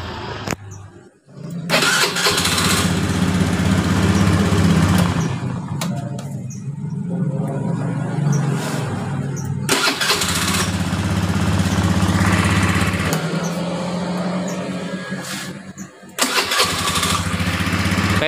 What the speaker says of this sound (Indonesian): Sekarang kita cek suara starternya.